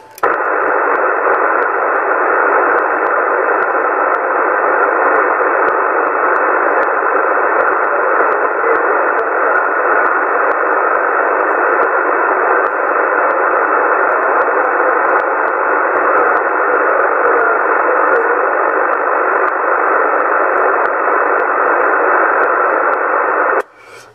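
Static and interference crowd CB radio channel 27 as a constant loud band-limited hiss and rush, holding without a break for over twenty seconds before cutting off.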